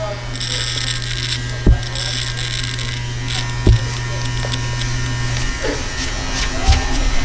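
Electric hair clippers fading a beard, a steady close mechanical hum with a few brief sharp clicks and knocks, and a voice speaking briefly over the buzz.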